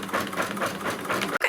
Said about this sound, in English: see how the machine's doing a real wide zigzag stitch or satin stitch